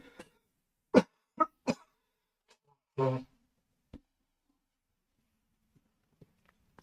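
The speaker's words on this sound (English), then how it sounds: "I'm going to have to turn and blow my nose" A few short, sharp bursts of nose blowing and snorting, separated by quiet pauses, close and fairly loud.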